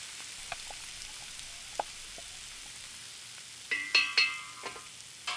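Potatoes that have been partly steamed sizzle faintly in a pan with Kolhapuri masala added. A soft, steady frying hiss is joined near the end by a few brighter clinks and scrapes of stirring.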